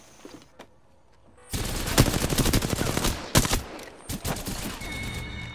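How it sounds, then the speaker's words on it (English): Bursts of rapid automatic gunfire in the video game Apex Legends, loud and close, arriving in several volleys with short gaps after a quiet start. "Getting shot at."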